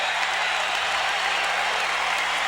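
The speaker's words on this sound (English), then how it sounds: "Listen to the crowd as the Magic call timeout." A home crowd at an Orlando Magic basketball game against the Detroit Pistons cheers and claps loudly as a timeout is called late in the fourth quarter, a continuous, dense roar with no pauses.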